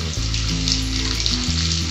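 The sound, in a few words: cumin seeds crackling in hot butter in a pan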